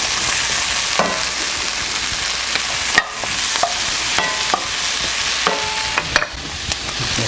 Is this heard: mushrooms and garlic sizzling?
yes